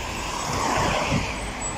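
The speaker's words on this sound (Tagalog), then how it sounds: "Sasakyan yun ah!" A car passes close by on a road, a loud broadband whoosh of tyres and engine swelling and fading over under two seconds amid traffic noise.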